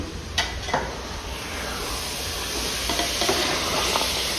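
Soya chunks and vegetables sizzle in a pan for a soya pulao, a constant close frying hiss broken by a few stirring scrapes.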